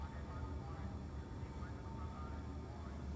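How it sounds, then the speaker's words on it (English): Helicopter rotor and engine drone from the Pequod in the Death Stranding video game, a steady, dense low rumble that continues unchanged at even loudness throughout. "The helicopter, the Pequod."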